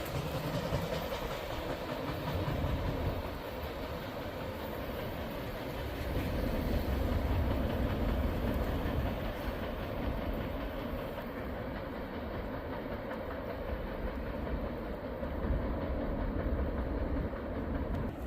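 A freight train rolls past on the line between Grafton and Wellington, Ohio, a steady, loud rumble of rail cars with rhythmic clickety-clack that holds for the whole stretch, heard outdoors without talk.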